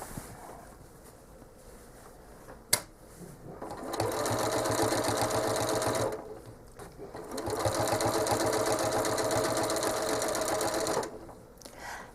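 An electric sewing machine stitches a stencil-pattern holiday quilt in two steady runs of fast, even whirring, each lasting a few seconds, separated by a pause and a single sharp click.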